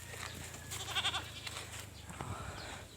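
Goats bleat a few times on a farm, with a cluster of short wavering cries near the middle over a steady low background hum; no one speaks.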